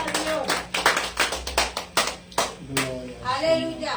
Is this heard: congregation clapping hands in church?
yes